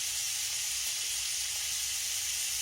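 Butter sizzles in a frying pan with a steady, bright hiss that holds even and unbroken throughout, with no voices over it.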